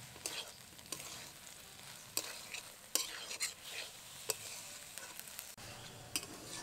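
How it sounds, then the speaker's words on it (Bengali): Fried small shrimp and vegetables, including pointed gourd leaves and seeded banana, are stirred in a pan. A spatula scrapes and clinks in close, irregular strokes over a constant sizzle of frying. "এবার দিয়ে দেবো ভেজে রাখা চিংড়ি। ভালো করে কিছুক্ষণ নেড়ে নেব।"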